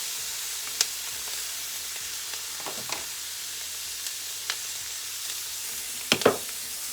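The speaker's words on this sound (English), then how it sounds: "I am going to add my onions." Onions sizzle in melted butter in a pan with a steady soft hiss, a few scattered pops and a brief louder crackle and scrape near the end.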